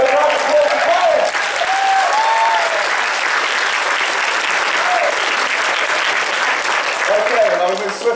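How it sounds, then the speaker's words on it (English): A crowd at an anime convention game-show panel gives a big burst of applause and cheering for a guest, loud and sustained, with voices calling out over the clapping. "Big round of applause for Karen."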